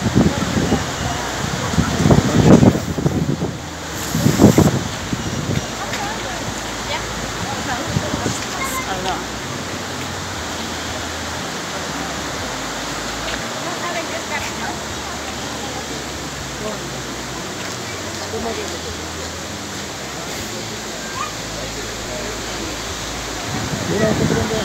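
Pailón del Diablo waterfall and a rushing river heard as a steady, dense roar of falling water, loud and continuous, with brief bursts of voices near the start.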